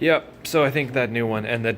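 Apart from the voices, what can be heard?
No everyday noises stand out.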